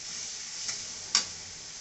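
Onion with ginger, garlic, cumin, coriander, dried chili powder and salt fries in a pan with a steady close hiss, broken by two light scraping clicks of stirring.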